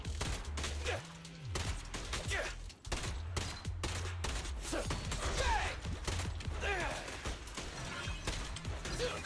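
Rapid pistol shots in Zenless Zone Zero combat gameplay crackle in quick bursts among busy game effects and music, fairly quiet and mixed under the action.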